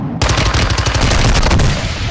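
Loud, rapid automatic gunfire in the video game Call of Duty: Modern Warfare II breaks in after a brief silence, with dense bursts of close shots rattling on for about two seconds.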